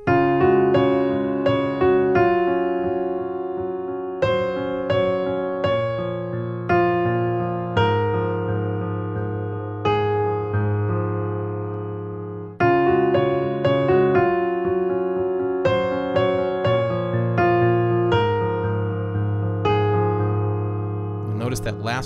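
Left-hand piano part from the intro of a song: clear, close single notes and low chords struck in a slow, repeating phrase, each ringing and fading before the next, with the last note held a little longer.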